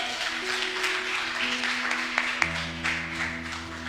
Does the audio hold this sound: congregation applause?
yes